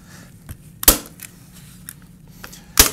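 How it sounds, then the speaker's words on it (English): A staple gun fastens weed blocker fabric, firing two loud, sharp snapping shots a couple of seconds apart with quieter clicks and handling noise between them, close up and with no talking. "you're just going to staple this down"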